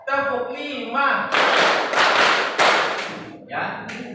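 Students in an Indonesian classroom clap in unison in a rhythmic pattern, several loud, sharp bursts of clapping repeating in close succession, with a teacher's voice speaking before and after.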